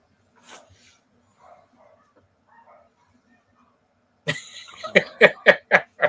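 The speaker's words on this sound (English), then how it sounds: "Now I have dogs barking." Dogs barking, a rapid string of loud close barks in the latter half after a few faint distant sounds and quiet murmurs.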